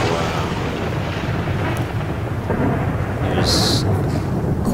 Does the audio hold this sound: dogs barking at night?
no